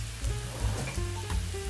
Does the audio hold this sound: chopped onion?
yes